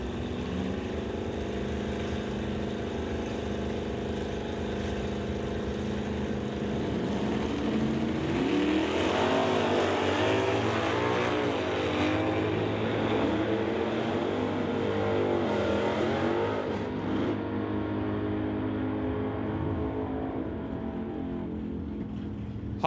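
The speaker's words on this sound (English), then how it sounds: "We'll bring up Rob Hodgson in the Dart to race for Barry Peterson in the 1965 Cornet" Drag race between a Dodge Dart and a 1965 Dodge Coronet, sustained engine roar that swells and rises in pitch midway as the cars accelerate, then fades slightly toward the end.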